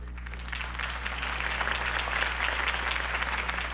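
Sustained applause from a crowd in the video game Batman: The Telltale Series, steady and dense clapping throughout with a low constant hum underneath.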